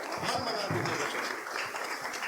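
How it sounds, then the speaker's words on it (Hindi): Audience applause at a wedding gathering during a song recital, a continuous hiss-like roll of many hands clapping at a fairly even level with some voices mixed in. "एक बार जोरदार तालियां आप अपनी बजा दें।"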